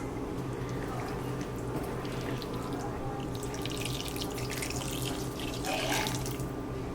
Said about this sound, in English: I have about 2 cups of hot water. I'm gonna gradually add it